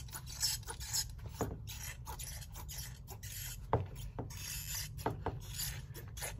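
Scrap leather is cut out for a knife sheath, a quiet run of scraping, rasping strokes with faint clicks at an uneven rhythm and no voices.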